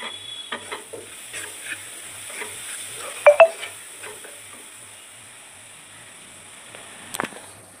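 Chillies roast in a pan with a soft, steady sizzle, broken by light scraping and stirring knocks, with one louder clatter near the middle and another toward the end.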